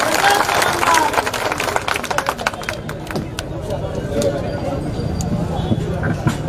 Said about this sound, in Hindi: तालियों की गड़गड़ाहट के साथ स्वागत करें जीतू भैया का।